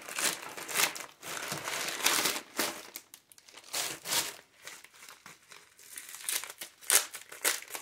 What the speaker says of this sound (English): So this packaging here, let me cut it open here.